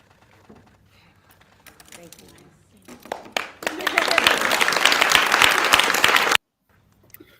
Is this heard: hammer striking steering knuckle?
no